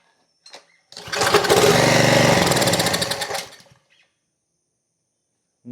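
Small engine on a freshly repaired carburetor cranks, fires up into a loud rough roar for a few seconds, then sputters and dies, leaving silence.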